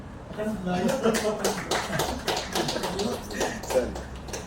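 Audience clapping for three children at a Tamil speaking event in Malaysia, a steady patter of hand claps with speech running over it throughout.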